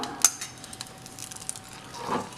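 Sakkarai pongal being stirred in a pan with ghee-fried cashews and raisins, quiet scraping and light clinks of a spoon, a sharper knock near the start.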